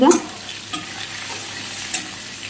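Chopped capsicum stir-fried in a pan for bhetki chilli fish, with a soft, steady sizzle and a few scraping stirs of the spatula, close and on its own.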